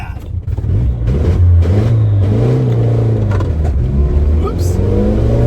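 A 1981 Dodge Challenger engine revs at full throttle, a loud, steady mid-range roar rising in pitch as it pulls, heard from inside the car with a voice speaking over it.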